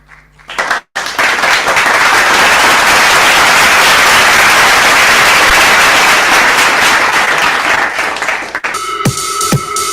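Loud, dense applause from an awards ceremony audience, swelling after a brief pause and holding steady for several seconds before thinning out under music near the end.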